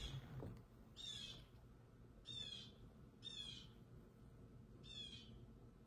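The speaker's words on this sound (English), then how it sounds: "There's a bird screaming outside." A bird screams outside in four or five harsh, raspy calls spaced about a second apart, faint and distant against a low background rumble.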